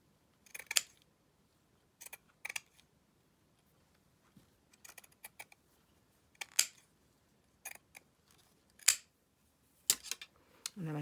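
Scissors snip across paper for a junk journal, a handful of short, crisp cuts in separate bursts with quiet pauses between, close and fairly soft.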